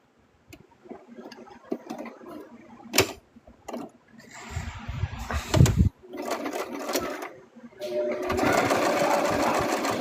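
A sewing machine runs in bursts while a mouse plush is stitched, its rapid mechanical whirring and ticking starting and stopping, loudest in a long steady run at the end, with some handling clatter in between.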